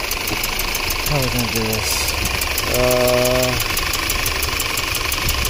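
A 2013 Audi Q5 2.0 engine idles close up with a misfire, a constant rhythmic chugging and ticking vibration under brief spoken words from a nearby man.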